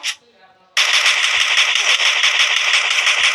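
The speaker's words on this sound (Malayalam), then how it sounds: "അവൻ എന്നെ വെടിവെക്കാൻ ശ്രമിക്കുന്നു." Rapid automatic gunfire in the Free Fire battle game, a loud continuous burst of shots that begins abruptly after a short pause and rattles on without a break.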